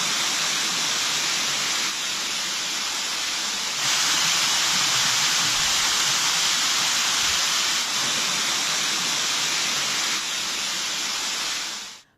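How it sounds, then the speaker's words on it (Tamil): Heavy rainwater pours down a temple's stone stairway like a waterfall, making a steady, loud, broadband rushing roar that holds without a break for about twelve seconds. "ஐயர்மலை ரத்தினகிரீஸ்வரர் கோயில் படிக்கட்டுகள் வழியாக மழைநீர் அருவி போல் வழிந்தோடிய காட்சி"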